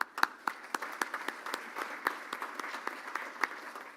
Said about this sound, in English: I'd like to give a round of applause to Heather for already joining a committee and getting involved.